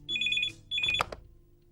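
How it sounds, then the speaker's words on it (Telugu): A telephone rings in two loud, bright electronic trill bursts, each about half a second long, followed by a short clatter as the ringing stops. "ఏంటి ఫోన్ రింగ్ అవుతుంటే ఏం ఆలోచిస్తున్నావు?"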